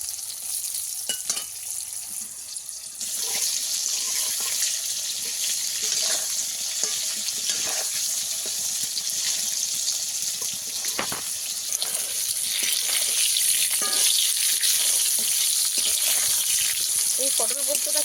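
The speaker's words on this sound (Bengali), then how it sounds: "পটলটাকে ভালো করে এদিক ওদিক করে নাড়িয়ে চাড়িয়ে ভেজে নিতে হবে।" Pointed gourd pieces (potol) fry in a pan with a steady hissing sizzle that grows louder partway through, punctuated by stirring clinks and scrapes.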